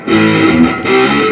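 An electric guitar with heavy distortion plays a short, sustained fill from a song. The tone is thick, buzzing and loud, with sliding notes that swell, dip briefly, then ring out again.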